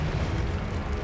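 A Confringo explosion spell goes off in the Hogwarts Legacy video game, a loud, dense rumbling blast that sustains without a break across the short moment.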